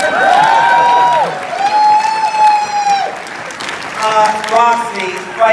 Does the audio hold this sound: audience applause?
yes